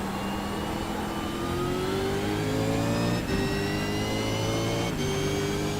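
Race car engine in a racing video game revs loudly and steadily after a shift into second gear, pitch climbing smoothly with brief dips at two more gear changes, alone and close.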